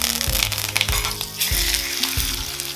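Tortang talong, an eggplant omelette, frying in hot oil in a pan, a steady loud sizzle with a few thumps and scrapes from utensils, no voices.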